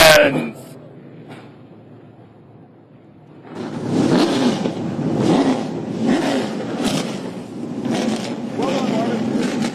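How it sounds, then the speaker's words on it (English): Trans Am TA2 race cars firing up at Watkins Glen International, a quiet pause giving way to a loud, sustained rumble of several engines starting and revving in uneven surges. "ladies and gentlemen, start your engines!"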